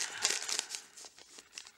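Paper supermarket receipt crinkling in the hand, a run of soft, crisp rustles and crackles close up in a quiet room.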